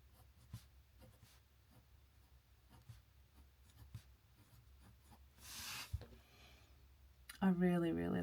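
A TWSBI Root Beer fountain pen writes across paper in faint, soft scratchy strokes, set against a low background hum, with a brief louder rustle near the end.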